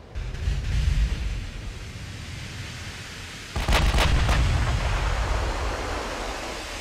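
Warship gunfire in the naval battle game Ultimate Admiral: Dreadnoughts, heard as a heavy broadband boom that cuts in midway over a steady rushing sea-and-wind bed, followed by a few sharp cracking bursts, loud and without speech.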